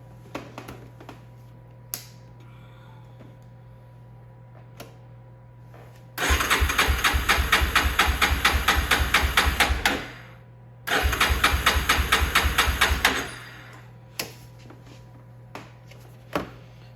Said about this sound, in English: let's crank this thing up with a wide open throttle